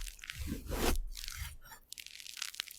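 AI-generated ASMR of a knife cutting devil fruits, with crisp crunching and squishy slicing bursts, a dense cut near the start and sharper scraping cuts later, close and clear with no talk.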